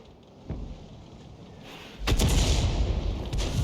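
Artillery fire in World of Tanks from a 105 leFH18B2 self-propelled gun: a muffled thump early on, then a louder sharp boom with a brief rumbling tail, all without speech.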